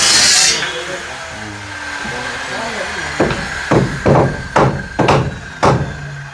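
Nails are hammered while a large wooden door is fitted, first some speech, then a series of about six sharp, ringing blows at uneven intervals, close and loud.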